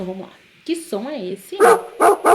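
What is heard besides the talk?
dog barking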